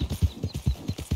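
Horse hooves galloping in Red Dead Redemption 2, a quick, even run of thudding clip-clop beats, close and fairly quiet.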